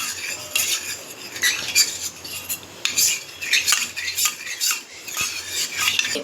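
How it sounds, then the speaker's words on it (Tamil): A metal spoon stirs cornflour into milk in a bowl while making chikku ice cream, with repeated quick scraping clinks against the container, close and busy with brief pauses and no speech. "பாருங்கள், கட்டி இல்லாமல் கரைச்சிக்கலாம்."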